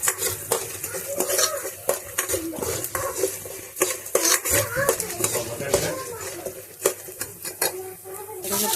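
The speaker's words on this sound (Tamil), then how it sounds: "கடலைப்பருப்பு வறுத்துட்டு உளுந்து பருப்பு, மிளகு, சீரகம், நம்ம எடுத்து வச்சுருக்க பொருள் எல்லாத்தையும் சிம்மில் வச்சுட்டு நம்ம வறுத்துக்கணும்" Chana dal, urad dal, black pepper and cumin dry-roast in a pan over low heat for curry leaf rice, with a spatula scraping and clinking against the metal in quick, uneven strokes close by.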